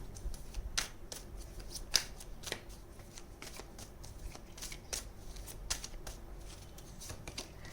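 A deck of tarot cards is shuffled up close in a quiet room, giving quick crisp riffling bursts and sharp snaps at irregular intervals without any talk.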